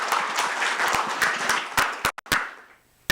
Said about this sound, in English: Let's give her a warm round of applause as she comes to join us on stage.